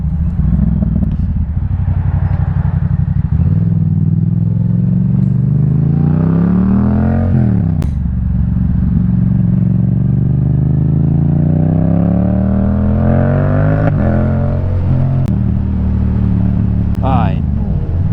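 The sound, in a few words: Yamaha MT-07 motorcycle engine running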